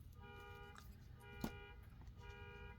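A truck's car alarm or horn sounds from outside with a steady, repeating electronic tone that stays faint and distant throughout, with a brief louder knock partway through.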